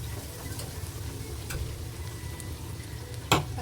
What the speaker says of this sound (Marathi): आणि ते असं थोडंसं तेलात परतू द्यायचं.